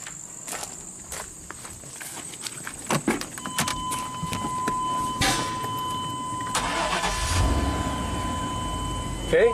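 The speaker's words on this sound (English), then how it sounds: "So let's start up the truck with everything connected" A 1998 Chevy K2500 pickup cranks and starts, then idles steadily, with a brief high warning chime and steady hum inside the cab, keys jingling and footsteps near the start.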